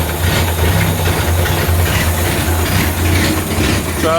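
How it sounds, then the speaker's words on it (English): A car engine idles steadily with a loose distributor, a continuous low rumble with a rhythmic mechanical chatter, loud and close, no speech. "But you can see the engine running."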